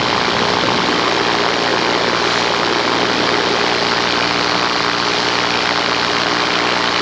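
A paramotor's engine and propeller drone steadily in flight, a loud, continuous buzzing roar with a constant pitch that holds unbroken for several seconds, close up and with no voices.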